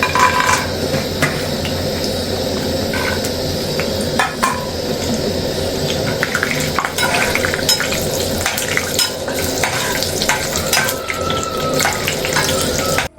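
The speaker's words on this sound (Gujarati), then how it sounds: "આપણે પહેલાં કાજુ તળી રાખશું" Cashews sizzle and crackle steadily in hot oil, a dense, loud frying hiss with occasional light clinks of a utensil against the pan, no voices present.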